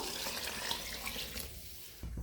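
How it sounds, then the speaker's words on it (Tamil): Water pours steadily into a pot for cooking soaked ponni rice, a continuous splashing gush close by, easing off near the end with a brief clunk. "3 கப் அரிசிக்கு 6 கப் அளவு தண்ணி சேர்த்திக்கலாம்"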